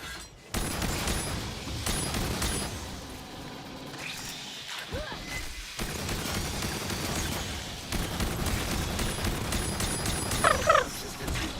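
A shotgun in the sci-fi shooter Aliens: Fireteam Elite fires amid busy combat, with sharp blasts, crashes and mechanical clanks over a dense, continuous battle din.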